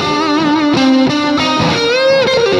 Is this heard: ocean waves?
no